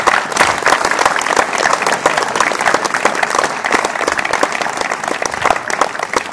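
A church congregation bursts into loud, sustained clapping during a wedding ceremony, dense and even for several seconds with no talk over it.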